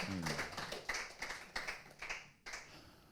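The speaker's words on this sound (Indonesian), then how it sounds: "Semua tepuk tangan." Scattered clapping rises from a church congregation during a service, a quiet, thin run of claps with distinct separate strikes, some fading quickly, as a voice trails off at the start.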